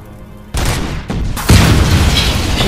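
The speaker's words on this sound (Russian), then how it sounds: "Эта машина взорвалась, а это взорвется?" A sudden heavy boom erupts as a car explodes in the video game Robocop: Rogue City, then a second, bigger blast follows, leaving a loud, dense roar of explosion noise.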